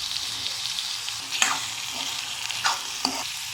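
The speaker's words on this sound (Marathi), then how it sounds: "आता यात आपण टमाटा घालून घेऊ आणि मिक्स करून घेऊ।" Tomato and coriander being stirred into a roasted eggplant curry (baingan bharta) in a pan, giving a steady soft sizzle with a few scraping spoon strokes, close and alone without voices.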